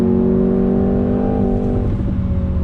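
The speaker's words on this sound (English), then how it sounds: "Some pops coming from the exhaust." A 2020 Jaguar F-Type sports car engine held at steady high revs, with a few faint crackles and pops from the exhaust near the end.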